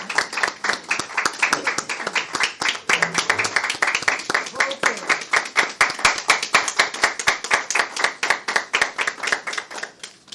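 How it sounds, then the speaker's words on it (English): Audience clapping at a 2022 national examination results press event, a steady round of applause with many crisp, individually distinct claps in an even rhythm for about ten seconds, some faint voices underneath. "I wish all of us to give them a round of applause."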